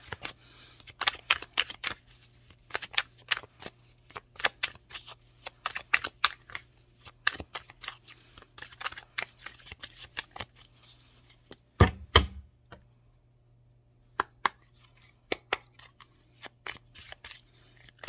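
Tarot cards are shuffled by hand for a reading, making rapid, close, crisp riffling flicks in busy bursts, then a brief pause before a few more scattered card snaps.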